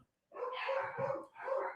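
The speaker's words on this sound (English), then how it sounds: "The dogs will stop in a minute or two here." Dogs give two drawn-out, fairly close barks in quick succession after a brief moment of silence, with no speech.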